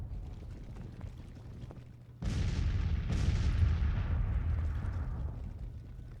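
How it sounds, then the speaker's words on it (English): Artillery fire in the Civil War strategy game GT:CW Confederate 1861 lands as a sudden heavy boom followed by a second blast, leaving a long rumbling roar that slowly fades. "they were fired on point blank with artillery"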